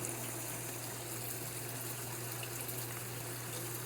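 A suspended solids pump drains water in a DIY aquaponics system with K1 media: a steady, unbroken rush of flowing water over a constant low mechanical hum, close and even throughout.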